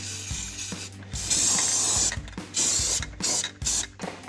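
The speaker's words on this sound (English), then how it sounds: "you're gonna wanna take some black spray paint" Black spray paint hissing from an aerosol can onto a metal upper control arm for a 2014-2018 Silverado 1500, in several short bursts separated by brief pauses, close and fairly loud, with faint clicks between sprays.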